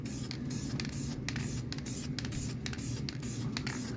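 Short rhythmic hissing bursts of spray paint laid as a light coat onto a car wheel, hub and spokes, repeating about every half second at close range.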